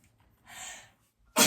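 A person sneezes close by: a short breathy intake followed by a sudden, loud burst of sneeze at the end, with near silence around it.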